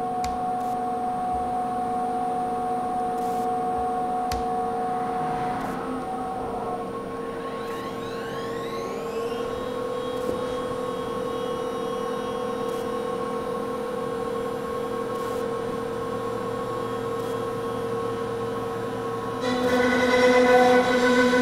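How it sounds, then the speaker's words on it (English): A CNC router runs an Amana 1/2 inch plunge roundover bit through a profile cut, a steady high spindle whine with shifting tones and a louder cutting surge near the end. "So this is the Amana 1/2 inch plunge roundover."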